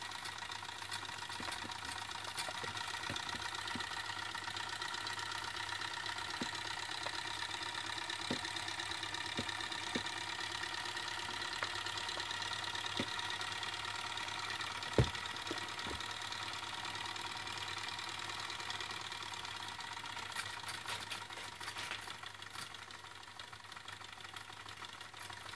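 A Jensen #65 EL dual-fuel live steam engine on 110V electric runs with a steady, faint mechanical hum and light rhythmic ticking, holding an even level throughout.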